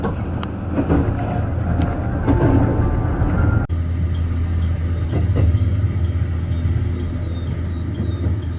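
A Japan Rail train runs along a rugged coastline, heard from inside as a steady loud rumble of wheels on track, with a brief jolt partway through and no talking.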